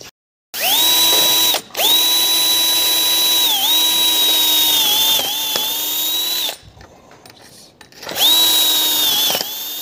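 A power drill boring a hole for a door hinge, loud and close, with long steady high whining runs broken by short stops and a brief quieter gap before it starts again.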